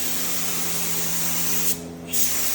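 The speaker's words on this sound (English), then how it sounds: "I'm just going to do a light mist coat and let it get tacky and then come back again." Krylon spray paint hisses out in a light mist coat on a 1970 Roadrunner project car: a close, continuous spray that cuts out briefly near the middle, then resumes.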